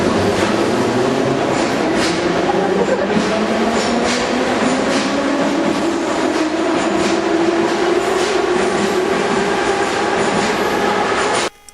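A subway metro train roars steadily and loudly at close range, its continuous rumble and rattling wheels filling the whole stretch before cutting off abruptly at the end.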